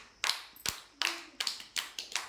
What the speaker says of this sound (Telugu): ఫాస్ట్ క్లాప్స్ కొట్టాలి